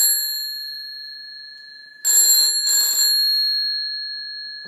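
A sustained electronic tone hums, then a WW2 field telephone bell, wired as a doorbell, rings in two short bursts close by, the ringing fading away afterward.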